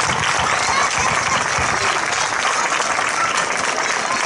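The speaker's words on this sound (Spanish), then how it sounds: "Un aplauso de mi parte y toda mi admiración para todos ellos y ellas." Sustained audience applause at a village festival opening in Hoya del Campo, a dense, steady wash of many hands clapping throughout, loud and even with no break.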